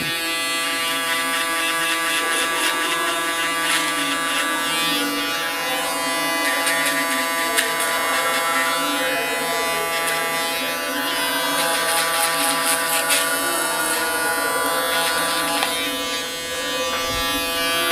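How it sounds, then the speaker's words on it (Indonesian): An electric shaver buzzes steadily and close up as it smooths hair that was already trimmed and outlined during a fade haircut, with small shifts in tone as it moves across the head. "Langkah selanjutnya yaitu kita shaver bagian rambut yang sudah kita trimmer atau kita outline."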